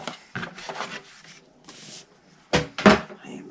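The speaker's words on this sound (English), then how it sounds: "I'm just going to fold and burnish." Cardstock being folded and burnished for a small box, with soft rubbing and scraping strokes in short separate bursts, close and fairly quiet, a sharper pair of rubs near the end.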